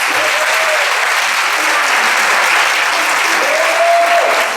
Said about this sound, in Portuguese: nada melhor do que uma salva de palmas para